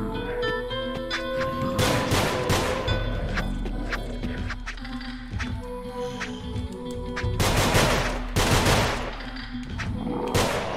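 Rapid gunfire from the side-scrolling video game Nongunz, dense bursts of loud, crackling shots with heavy blasts and thuds layered over a constant game soundtrack, no speech.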